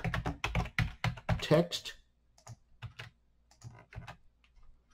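A person types on a computer keyboard while entering HTML text-formatting tags; a speaking voice dominates the first two seconds, then scattered, light keystroke clicks follow in a quieter stretch.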